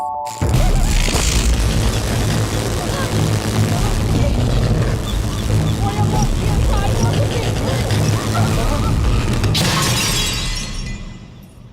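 Light bulbs bursting during a Telugu film comedy scene: a loud, dense barrage of popping and shattering glass over a deep rumbling boom, sustained for about ten seconds before cutting off abruptly.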